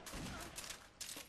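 Gunfire in the video game Perfect Dark Zero: dense, loud bursts of shots crowd the opening moment, then return in sharp volleys near the middle and again toward the end, with a faint voice underneath.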